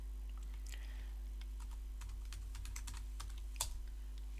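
Irregular bursts of key presses on a computer keyboard as a password is typed, close and fairly quiet over a low steady electrical hum, ending with a firmer keystroke.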